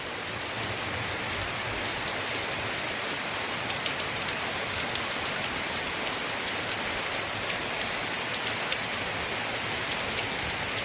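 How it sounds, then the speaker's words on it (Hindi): Steady rain falls outdoors in Mithila, Bihar, a dense even hiss of drops striking surfaces, continuous and fairly close, with no voices. "देखिए शुरू हो चुकी है बारिश।"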